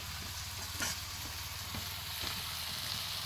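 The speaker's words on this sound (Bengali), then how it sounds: "আমার কিন্তু পাতায় মাছ ভাজা কমপ্লিট" Fish wrapped in leaves fries in a pan in the Sundarbans, making a faint, constant sizzle with a few soft stirring scrapes and no voices.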